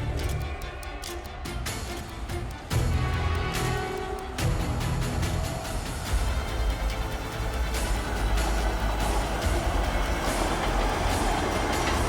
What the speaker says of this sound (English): Here is a shot of the SL Akita Komachi and the Super Komachi E6 series running side by side.